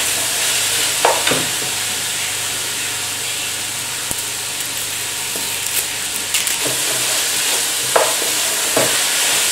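Chicken pieces fry in a pot for chicken curry, giving a steady loud sizzle and hiss. Occasional scraping knocks come as a utensil stirs the meat, with no voices over it.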